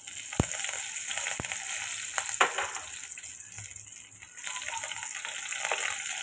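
Garlic cloves and curry leaves dropped into hot oil, a crackling, spitting sizzle with a few sharp pops near the start, continuous and close-up.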